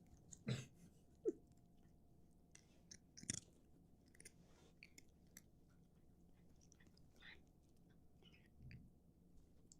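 A dog chomps on treats close to a microphone, with a few sharp crunching bites early on, then quieter chewing and soft mouth sounds over a low room hum.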